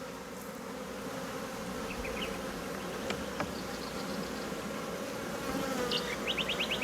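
A dense, steady buzz of many honeybees around comb in a top bar hive fills the clip, close and continuous, with a few brief chirps over it.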